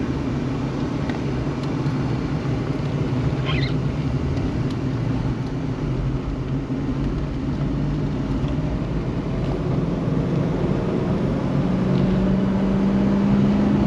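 A Ford Explorer with a 5-liter V8 and a slightly opened exhaust cruises down a faster road, giving a steady, low engine drone and road rumble from inside the cabin that holds even and unbroken the whole time.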